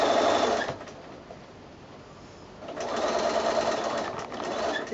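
Sewing machine stitching a mitred quilt border seam, a close buzzing run of stitches that slows and pauses midway, then starts again in a second steady burst.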